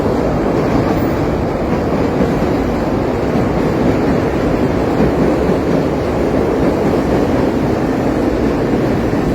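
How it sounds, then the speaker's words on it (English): On Franklin Street in a city, a train rumbles along the elevated track overhead, a steady, loud broadband roar with no break, heard from street level below. "above you see the train is going"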